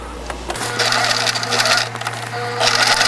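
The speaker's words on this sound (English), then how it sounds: "now I'm going to stitch down the sides with the same 1/4 inch that I did in between." A sewing machine stitches down the sides of a baby quilt with a 1/4 inch seam, running in a close, steady whirring rattle with brief pauses and a hum at the start.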